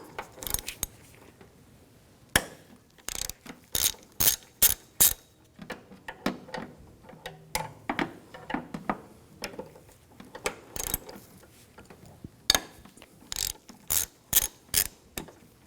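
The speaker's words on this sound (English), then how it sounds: "Using a 13mm socket, take these two bolts out" Ratchet wrench fitted with a 13mm socket backing out hood hinge bolts on a 2011-2018 Volkswagen Jetta, sharp close clicking in repeated bursts separated by short pauses, with no talking.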